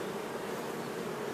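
Bees swarm around an open beehive, their buzzing dense and continuous. It is close and even, with no other sound over it.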